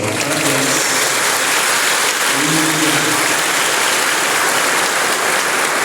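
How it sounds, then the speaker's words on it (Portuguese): Loud, sustained applause from a church congregation at a Cerco de Jericó prayer gathering, a dense wash of clapping lasting throughout, with faint voices briefly audible underneath. "uma salva de palmas para Deus"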